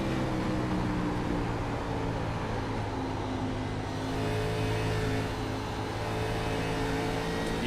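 An iRacing Xfinity race car engine in a sim-racing game drones loud and steady, easing slightly as the driver lifts off the throttle midway, then carries on at a constant roar.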